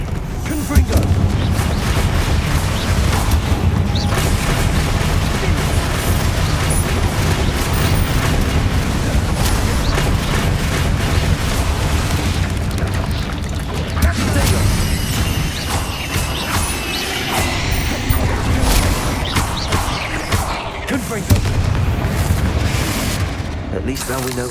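Bombarda and Confringo spells explode in Hogwarts Legacy during combat, a dense run of loud booms and crashing blasts that keep coming over most of the stretch, with a voice speaking between them.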